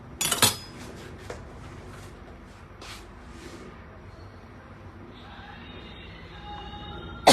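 Metal cutlery and a knife clink against a plate in a home kitchen while a healthy breakfast is being plated, a sharp cluster of clinks at the start, then quieter scattered taps and scrapes, with another clink at the very end.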